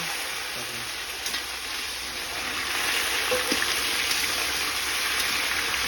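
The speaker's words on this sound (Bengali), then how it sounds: "দেখো এবার চলে গেছে আলু।" Potatoes drop into hot oil in a pan for a Bengali fish curry and fry with a steady, dense sizzle that grows louder halfway through, close by with no talking.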